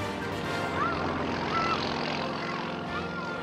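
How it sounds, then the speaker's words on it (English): A Pitts Model 12 aerobatic biplane flies overhead at an air show, its engine a steady, loud propeller drone with a rising and falling whine. "the first known appearance in Tennessee of an outrageous motor with wings, the Pitts Model 12"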